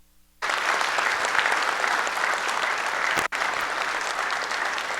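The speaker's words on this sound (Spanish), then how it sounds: "Un aplauso por este gran logro." Steady, dense applause from a crowd at a weekly political assembly begins abruptly after a brief quiet moment and continues evenly at moderate volume, with a tiny cut midway and no speech.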